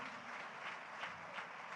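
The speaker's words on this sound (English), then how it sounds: "A round of applause, please" An audience at a Nigerian university debate event claps in a faint, distant wash of applause with no voices.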